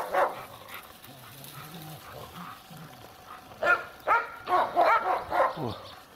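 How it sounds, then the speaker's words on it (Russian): Dogs barking at sparrows outdoors on a freezing winter day, a run of sharp repeated barks in the second half after quieter whimpering yips, fairly close. "И они на них лают."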